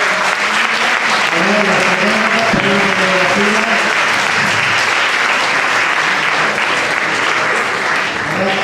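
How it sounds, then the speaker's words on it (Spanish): Strong, sustained applause from a seated audience at a farewell during a testimony gathering, steady dense clapping throughout with a few voices and a brief announcer's voice heard faintly beneath it. "Un fuerte aplauso para despedir a Mirta y a Rafael."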